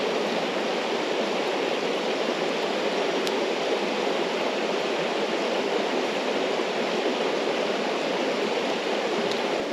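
Steady broadband rush of water flowing beside a tranquil winter camp spot along the Kintyre Way, continuous and fairly close, with no voices.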